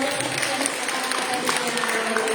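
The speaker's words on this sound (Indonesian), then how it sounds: "kita beri tepuk tangan dulu dong yang meriah" Audience in a parents' class on early childhood development applauds after a presentation, producing moderate, continuous clapping over a busy background, with possible voices mixed in.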